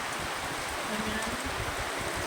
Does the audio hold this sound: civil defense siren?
no